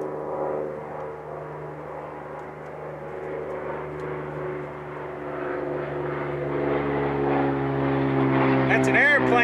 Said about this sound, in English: That's an airplane going by.